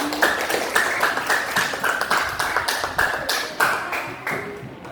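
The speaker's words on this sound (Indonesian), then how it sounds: "Ayo kita berikan aplaus dulu kepada kelompok 3" Classroom applause for a student group, a room of people clapping in quick rhythmic bursts, fairly loud and close, with no talking.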